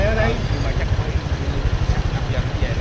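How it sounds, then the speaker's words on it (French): Scooter engine idling on a street in Nha Trang, Vietnam, a steady low putter running continuously and fairly close, with background street noise. "on a un scooter"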